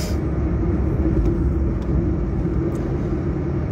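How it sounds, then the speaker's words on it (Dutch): Steady road traffic with cars rolling past nearby, a continuous low rumble of engines and tyres that holds even throughout, with no voices. "Ik wacht dat die auto's voorbij zijn."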